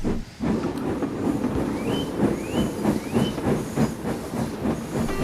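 A steam locomotive puffs away with a steady hiss of steam and soft rhythmic chuffs, plus a few faint high whistling tones, continuous and fairly close with no talking.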